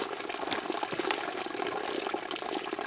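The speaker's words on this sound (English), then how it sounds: "that water you see is coming straight out of the mountain" Mountain spring water trickling from tiny fountains, a constant close babbling splash with bright bubbling texture and no pauses.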